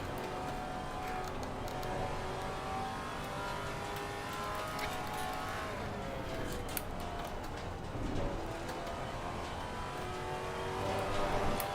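A GT3 race car in Assetto Corsa Competizione at Watkins Glen roars past, a steady loud engine drone with rising and falling revs and a brief tire squeal near the end, no talk over it.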